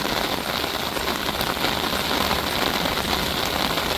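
Heavy rain pours down in a dense, steady hiss, loud and unbroken, with no voices over it.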